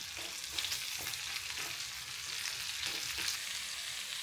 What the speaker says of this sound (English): chop up 1 onion and add it to the pan. Mix and toss everything together